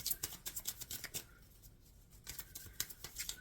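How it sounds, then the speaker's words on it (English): Tarot cards are shuffled by hand in quick, soft riffling flutters with a brief pause in the middle, then a few more light shuffles, close and faint, with no talk. "Shuffling, thank you."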